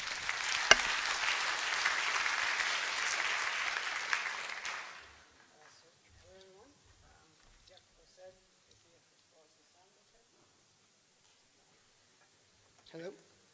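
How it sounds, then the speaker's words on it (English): Audience applause greets a speaker at a Django web development conference talk, a dense steady wash of clapping for about five seconds that cuts off abruptly, then near silence with faint voices and a short burst of sound at the end. "A big round of applause,"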